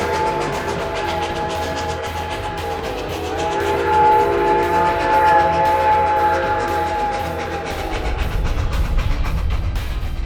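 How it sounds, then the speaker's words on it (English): Seventy-year-old Engine 73 on the White Pass & Yukon Route hauling empty carriages on a test run, a loud, steady rumble of the moving train with sustained whistle-like tones and a heavier chugging roar toward the end. "Engine 73 is quite a sight on her first test run of the season. A short performance trip, hauling carriages without passengers."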